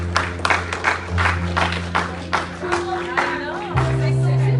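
Men in a church congregation applaud, a dense stretch of clapping with rhythmic surges, mixed with crowd murmur and some voices underneath.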